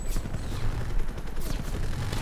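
Rapid, dense gunfire from an M1911 pistol in Call of Duty Black Ops Cold War, shots packed close together into a loud, continuous crackle of battle noise with no talk over it.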